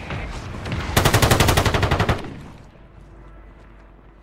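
Automatic gunfire in the Call of Duty Rebirth Island video game, a close, loud rapid burst of about a dozen shots lasting roughly a second before fading out.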